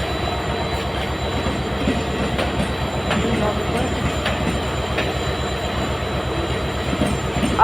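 A passenger express train with blue ICF coaches rolls past close by, a loud continuous rumble with rhythmic clatter of wheels over rail joints and faint squeals.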